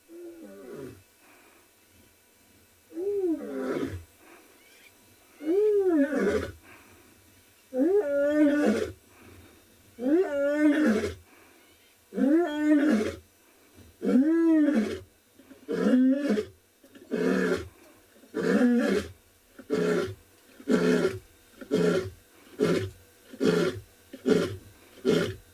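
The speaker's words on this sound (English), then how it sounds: "there is nothing like a lion roar" A lioness of the Mogoro Pride roars on a South African morning safari, starting with low moans that build into a long series of deep, loud roars, then a run of shorter, rhythmic grunting calls at fairly close range.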